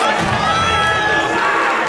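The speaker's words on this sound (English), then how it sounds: "This crowd is going crazy." Tournament crowd at a Super Smash Bros. Ultimate top 8 event in Texas, cheering and shouting wildly, a dense, loud roar of many voices sustained throughout with excited yelling on top.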